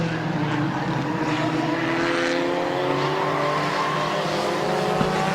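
Race cars lapping the oval at Midvale Speedway in a dirt-track style feature, engines roaring steadily with rising and falling pitch as the pack passes, a continuous loud drone throughout.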